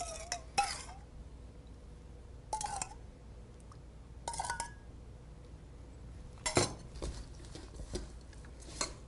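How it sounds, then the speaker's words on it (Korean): Clinks of a utensil against a bowl while stirring a sweet sauce with shrimp for som tam, in a few separated bursts, with soft scraping between them and no talk. "소스는 설탕이 다 녹을 때까지 잘 저어주시고요"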